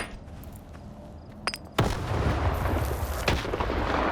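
A grenade tossed into a ventilation shaft at a chemical plant in S.T.A.L.K.E.R. 2 sets off a chain reaction: after a quiet stretch with a few sharp pops, a loud blast erupts into sustained rumbling explosions with repeated booming bursts.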